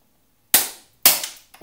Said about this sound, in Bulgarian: ето вижте как кокосовия орех се напука